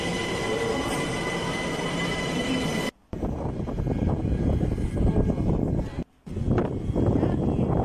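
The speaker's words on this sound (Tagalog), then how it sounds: "Ayan na yung train mga kapatid." A train pulls into a station with rumbling wheels and rail noise continuing throughout, close and loud, broken by two brief gaps.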